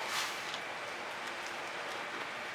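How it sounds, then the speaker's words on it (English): Steady rain falls outdoors in sunshine, a continuous soft hiss of drops without pause and no talking. "oh, the rain is back. Sun shining and rain."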